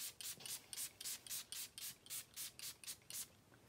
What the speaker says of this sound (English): So, all right, setting spray.